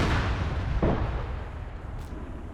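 Cannon artillery fires in a World War One video game, with a rumbling, dense roar of distant booms and one sharper blast standing out partway through.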